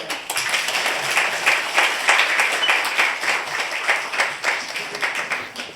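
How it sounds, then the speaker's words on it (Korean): Congregation applauding inside a church during a Sunday worship service, a lively burst of many hands clapping steadily for several seconds, moderately near, with no speech. "박수."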